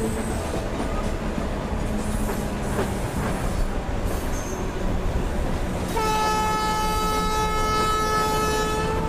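A Rajdhani Express pulls out of CSMT station in a train simulator game, with steady rolling rumble and rail clatter for several seconds. A long, loud horn then sounds and holds to the end.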